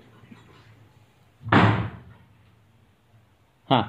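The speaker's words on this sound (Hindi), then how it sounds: "मम्मी जरा दरवाजा बंद कर, आवाज जातोय।" An indoor door swings shut with a loud slam, followed by a second sharper knock or latch click a couple of seconds later, against quiet room background.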